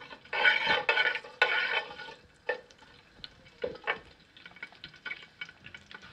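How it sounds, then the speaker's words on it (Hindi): Nigella seeds (kalonji) crackling in hot oil in a pan, with a few louder bursts of popping early on, then faint scattered crackles and light clinks. "साथ ही मैंने कलौजी डाली इसको थोड़ा सा हम क्रैकर होने देंगे"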